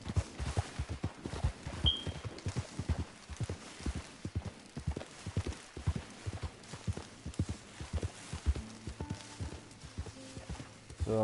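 A horse galloping in a PS4 video game, rapid rhythmic hoofbeats thudding steadily throughout at moderate level, with faint game tones and a brief chime layered in.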